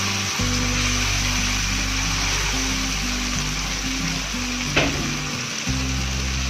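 Cumin seeds hit hot oil in a desi green-bean dish and set off a loud, steady sizzle that goes on throughout, with a brief clink partway through.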